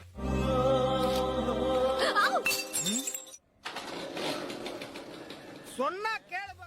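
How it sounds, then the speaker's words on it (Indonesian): A drinking glass falls and shatters with a sharp crash and tinkling fragments, set amid dramatic film music and sound effects, with a whooshing swell and chirping tones following. "gelasnya malah jatuh dan pecah"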